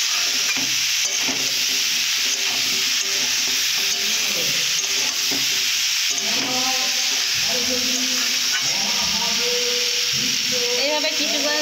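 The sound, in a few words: meat being stir-fried (kosha) in a pan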